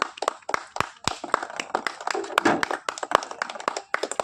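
Uneven hand clapping from a small crowd at an outdoor ball-in-bottle prize game, sharp scattered claps in quick irregular bursts, fairly close, with faint voices underneath.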